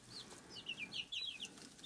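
Young chicks in a split backyard coop give several high, short chirps and cheeps in quick succession, fairly close and fairly quiet.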